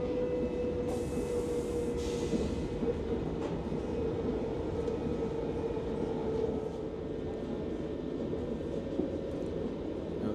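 Train at South Elmsall station platform in West Yorkshire, a steady low rumble with a faint tonal hum and occasional clicks, heard from nearby without speech.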